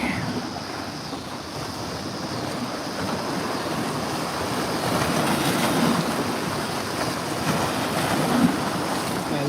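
Waves washing onto the Lake Michigan shore near Chicago, a steady broadband rush of surf rolling in continuously with some wind buffeting the microphone, no voices.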